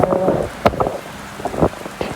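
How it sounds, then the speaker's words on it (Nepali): Rain begins falling outdoors on a hill trail near the Khotang–Bhojpur border, a close, continuous patter with a few louder splashes and gusts. "तर अहिले माथि निस्किसकेपछि चाहिँ पानी पर्नु सुरु छ।"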